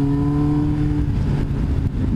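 A Yamaha XJR 1300 motorcycle engine roars and strains steadily as it accelerates from about 3000 rpm, its low droning tones wavering as it pulls under load, close and loud throughout.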